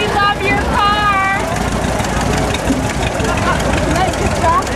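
An old tractor engine idles nearby with a steady, loud low rumble that holds constant throughout, with a brief voice near the start.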